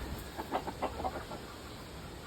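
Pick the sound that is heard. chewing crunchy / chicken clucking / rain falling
chicken clucking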